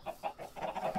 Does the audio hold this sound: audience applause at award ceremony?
no